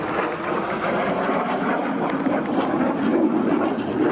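Frecce Tricolori aerobatic jets flying in formation at the Zeltweg air show in Austria, a steady, loud roaring engine wash that swells slightly toward the end, heard alone without voices.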